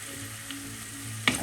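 Ginger and garlic dropped into hot coconut oil give a steady low sizzle, then a sharp, louder crackle and spit near the end as more goes into the pan. Close and alone.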